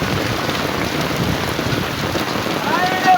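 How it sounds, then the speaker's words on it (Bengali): Heavy rain pours in a Padma river village in Bangladesh, a dense, continuous hiss of drops on surfaces filling every moment at steady loudness. "কঠিন একটা বৃষ্টি আসলো।"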